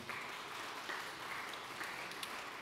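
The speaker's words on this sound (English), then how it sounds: "yeah, you can clap, it's good" Faint audience clapping at a city real estate review presentation in Airdrie, soft and continuous from a distance.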